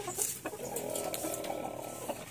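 Tiger breed chickens on a farm cluck and call close by in short, overlapping bursts over a steady background hum, with no talking.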